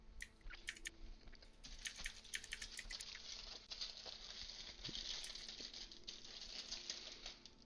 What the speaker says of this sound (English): Keyboard is very enjoyable to listen to.